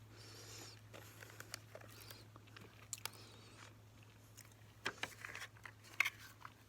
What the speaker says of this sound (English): Biscuits with strawberry flavored filling